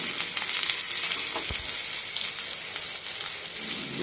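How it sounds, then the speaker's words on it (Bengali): Jackfruit and potato pieces sautéed in hot oil in a pan, a loud continuous sizzle and frying hiss with occasional stirring scrapes and a single knock; no talking. "এঁচোড়টা আর আলুটা আমি এর মধ্যে দিয়ে দিয়েছি। দিয়ে ভালো করে আমি একটু কষিয়ে নেব।"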